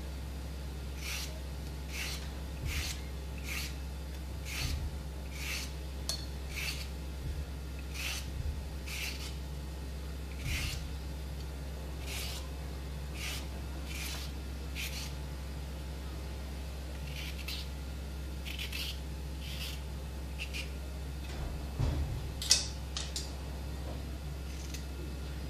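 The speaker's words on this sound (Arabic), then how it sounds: "ننظف حبة الجزر ونزيل قشر" A carrot being cleaned and peeled, with a run of soft, regular scraping strokes under a steady low hum, fairly quiet throughout.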